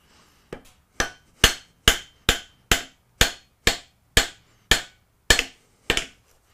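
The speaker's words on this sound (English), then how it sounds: "take my rawhide, lightly tap on the end of the rod here" A rawhide mallet lightly taps the end of a metal rod, about a dozen sharp, evenly spaced knocks at roughly two per second, close and alone.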